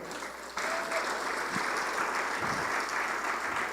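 A church congregation bursts into steady, dense applause during a sermon, the clapping rising sharply after a short quiet start and holding full and even to the end with no voices over it.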